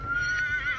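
A horse on a ranch gives a short whinny with a bright sustained tone over low rumble, close and alone for under a second.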